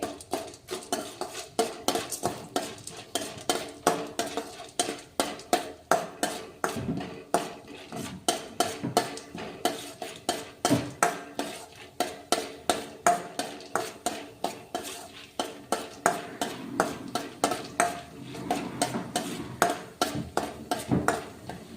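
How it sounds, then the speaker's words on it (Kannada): Chana dal frying in cooking oil in a pan, stirred steadily with a metal spoon, giving a repeated scraping and clinking rhythm over a soft hiss throughout. "ಈಗ ನೋಡ್ರಿ ಕಡಲೆಬೇಳೆ ಫ್ರೈ ಮಾಡ್ಕೊಳ್ಳೋಣ"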